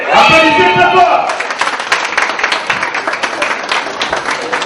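Crowd applause at the Miss Orangina 2015 beauty pageant in Cameroon, a dense, loud patter of many hands following a brief shout, continuing steadily and close.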